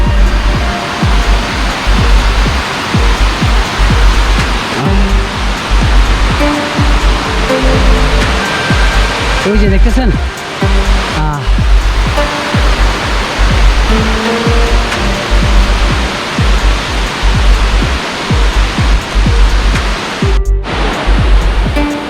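Baklai waterfall near Thanchi in Bandarban, a very tall falls, pours with a loud, steady roaring rush that fills the whole stretch, while someone speaks briefly and faintly over it.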